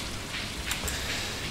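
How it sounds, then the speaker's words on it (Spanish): Steady patter of rain in the Stardew Valley farming game, a soft, even hiss throughout with no voices. "Me parece que está lloviendo afuera."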